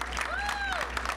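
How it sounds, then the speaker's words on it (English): Applause from a graduation audience honoring the grandparents at the 2021 Explorations Academy ceremony, a steady, dense clapping wash with a bright whistling tone sweeping through it. "Let's give our grandparents a big, big, big round of applause."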